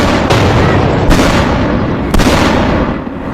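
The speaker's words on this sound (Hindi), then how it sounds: "देखिए हाईवे पर आकर मिसाइल गिरी" Missile strike on a highway in Israel, heard as a dense roar of blasts and noise with several sharp bangs cutting through, loud and chaotic over the whole stretch.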